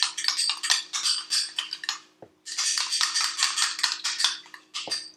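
Cilantro lime aioli whisked together in a bowl, a quick run of close, rapid metallic clinking and scraping that pauses briefly, then resumes just as briskly.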